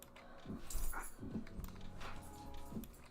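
A dog gives several short whimpering yips and low vocal sounds at a close, fairly quiet level, spaced irregularly with no talking.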